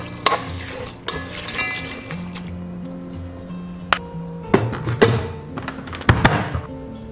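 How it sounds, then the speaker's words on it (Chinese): Black rice, red dates and brown sugar stirred in a rice cooker pot, with a few sharp knocks and clinks of the utensil against the pot, scraping and stirring between them, and a busier burst of taps near the end. "然后稍微给它搅拌一下"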